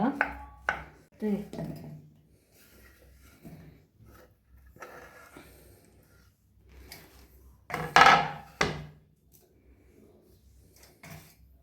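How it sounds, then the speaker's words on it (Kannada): Banana being cut into small pieces on a board, a scattered series of knife taps and thuds with one louder knock near the end, under a voice speaking between the cuts. "ಬಾಳೆಹಣ್ಣನ್ನು ಈ ಥರ ಚಿಕ್ಕದಾಗಿ ಕಟ್ ಮಾಡಿಕೊಳ್ಬೇಕು."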